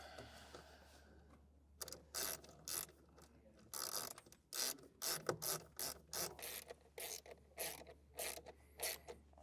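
Ratcheting a bolt and nut snug while mounting a Redarc Alpha 50A in-vehicle DC-DC battery charger: close, repeated metallic clicking strokes in short bursts, with faint creaks between pulls.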